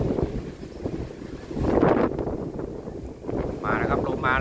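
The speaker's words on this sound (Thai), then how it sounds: "วันนี้ก็ลมกระโชกแรงเลยครับ" Strong, gusty outdoor wind at an exercise area near home rushes and buffets the microphone in surging waves, while someone talks throughout.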